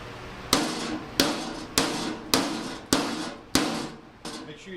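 A hammer taps out a dent in the body of a crashed 1967 Buick GS 340, six sharp metallic strikes spaced about half a second apart, each ringing briefly before the next.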